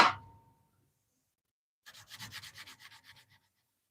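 A brief tap opens, then after a pause comes a quick run of about ten rhythmic rasping strokes of sandpaper rubbed back and forth on a wooden hook-knife handle, close up.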